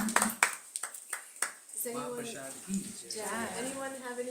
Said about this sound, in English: One big clapping for the host